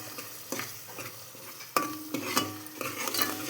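Ginger paste frying in oil for mutton curry, a soft sizzle with a ladle scraping and clinking against the pan in irregular strokes, fairly quiet and close, no talking.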